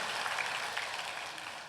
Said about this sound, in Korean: 그 한 분 위해서 박수 좀 쳐줘.